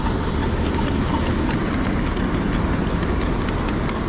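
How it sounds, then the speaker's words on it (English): A small-scale live steam model locomotive runs along its track at an outdoor club meet, giving a steady loud rumble with faint rhythmic clicking of wheels over the rails, and no voices. "Now we're going to get some 1-inch scale, 4 3/4 inch gauge, or 1 to 12 scale locomotives for a little variety here"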